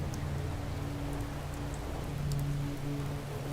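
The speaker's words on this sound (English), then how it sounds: "I really like the idea of the rain pouring down like this" Steady rain pouring down in the video game Oxenfree, a dense continuous hiss of falling water with a low droning ambient hum underneath, even and unbroken throughout.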